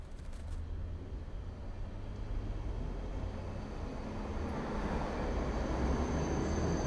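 A tram running on a line that ends at the city's northern edge, coming from the centre of Berlin, gives a steady low rumble and rolling noise that swells slightly toward the end, with no voices.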